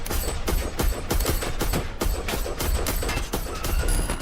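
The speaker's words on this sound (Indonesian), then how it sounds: "pria bersenjata di dalamnya memberikan tembakan brutal sebanyak 13 kali" Gunfire sound effect: about a dozen sharp, loud shots fired in quick, slightly uneven succession, heard alone without any talking.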